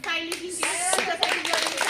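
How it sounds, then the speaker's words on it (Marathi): Schoolchildren's hands clap in a short burst for a classroom game winner under a child's high-pitched voice, near and fairly loud. "जोरदार टाळ्या"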